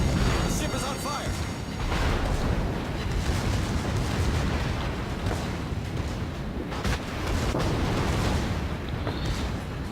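Warship guns in World of Warships roar with deep, sustained booming that swells and rolls through the whole stretch, broad and loud, blending into continuous battle rumble.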